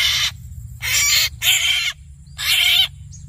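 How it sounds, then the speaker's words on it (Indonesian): Several loud, harsh calls from a black-naped oriole (kepodang) in the wild, four bursts about half a second each with short gaps, close by over a low steady rumble of background noise. "ini burung podangnya barusan"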